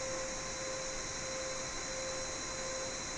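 The auxiliary power unit of a Boeing 787-10 runs in Microsoft Flight Simulator, a steady low-level broadband roar with a constant faint whine, unchanging for a few seconds with no talking.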